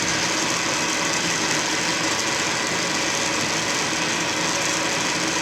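A lathe cuts a slot in a retractable tool holder, giving a steady, loud, broadband machining whine and grinding hum that runs continuously and close up, with no voices.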